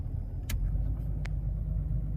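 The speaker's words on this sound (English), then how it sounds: "I've got the engine running, idling. Flip the extended idle switch" A Jeep Cherokee XJ engine idles with a steady low rumble, fitted with an extended high idle switch that raises the idle speed; two brief clicks sound over the continuous drone.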